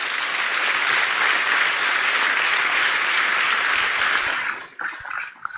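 An audience gives a sustained round of loud, dense applause at a Native land acknowledgment event, the clapping holding steady for several seconds before thinning out to a few scattered claps.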